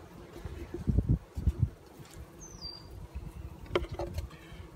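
Honey bees drone and buzz around a swarm trap hive outdoors, a steady low hum with louder surges as insects pass close, plus faint rustling.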